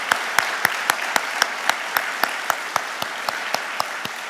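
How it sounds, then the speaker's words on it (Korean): A church congregation claps in slow, steady unison, each sharp clap evenly spaced in a regular rhythm, offered as a blessing after a prayer and a choir's singing. "우리 모두에게 축복의 박수를 한번 하도록 하겠습니다"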